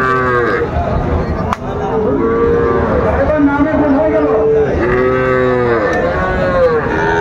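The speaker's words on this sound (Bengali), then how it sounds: "শাহীওয়াল জাতের ষাড় বাছুর গরু" Sahiwal bull calves at a cattle market in Chattogram moo loudly and repeatedly, long overlapping bellows close by, while people talk in the background.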